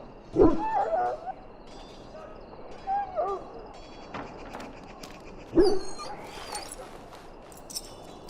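A dog in a video game barks sharply a few times, then whimpers and yips in short bursts, close and fairly loud against a quiet background.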